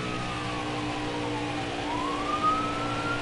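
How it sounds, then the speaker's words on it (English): A faint, distant siren wails and rises in pitch over a steady, droning engine hum from the racing game NASCAR Heat 5. "I apologize for that siren."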